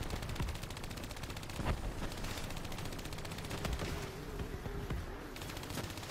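Dense, continuous automatic gunfire from the video game Call of Duty Black Ops III, rapid repeated shots blending into a steady barrage with a few heavier bursts, no talking.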